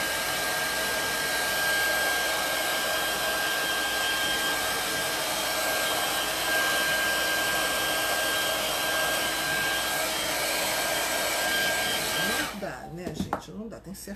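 A hair dryer runs steadily at close range, drying paint on a small handmade craft bag, its even whirring blow holding for about twelve seconds before cutting off near the end.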